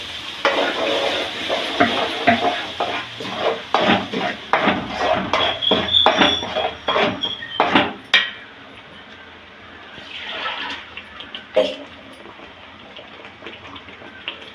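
Ground masala paste for idli masala kuzhambu sizzles and spits in a hot pan while a spoon stirs and scrapes repeatedly, then the frying settles to a softer bubble.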